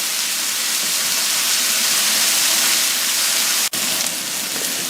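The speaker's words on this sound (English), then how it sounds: "So the sausage is cooking." A sausage sears in a hot pan, giving a steady, close sizzling hiss that holds almost unchanged for about five seconds, broken by one brief dropout near the end.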